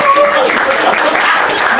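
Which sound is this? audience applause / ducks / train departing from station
audience applause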